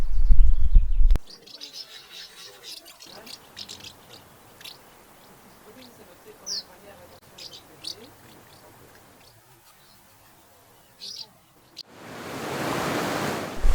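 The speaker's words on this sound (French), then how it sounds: "je suis juste à côté d'un ruisseau, en train de filmer des bergeronnettes des ruisseaux" A mountain stream in the Mercantour flows past with grey wagtails, whose sharp high chirps ring out now and then over a soft rushing murmur of water, before a loud burst of broadband rushing noise at the end.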